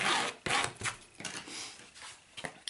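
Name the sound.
burnishing a folded canvas hinge for a mini album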